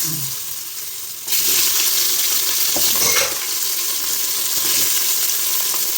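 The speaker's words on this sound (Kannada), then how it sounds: "ನಾನಿವಾಗ ಚೆನ್ನಾಗಿ ಫ್ರೈ ಮಾಡ್ಕೊತೀನಿ. ಹುಷಾರಾಗಿ ನೋಡ್ಕೊತಾ ಇರಿ, ಯಾಕಂದರೆ ಅದು ಜಾಸ್ತಿ ಸಿಡಿಯುತ್ತೆ." Carrots and other vegetables drop into hot oil in a pan, setting off a sudden loud, steady frying hiss with spluttering crackles that carries on close and unbroken, no talking.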